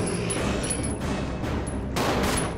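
Rapid bursts of gunfire ring out in the video game Resident Evil 0 as characters shoot at a zombie, a dense, continuous clatter of shots with heavy booming impacts.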